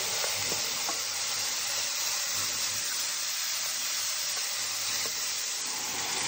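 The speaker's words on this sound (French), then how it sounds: "Dans la casserole, je mets légèrement de l'huile, mais vraiment une lichette. Hein. Et je mets les champignons à revenir" Mushrooms sizzle in a light film of oil in a saucepan, giving a steady, dense hiss that runs unbroken from start to finish.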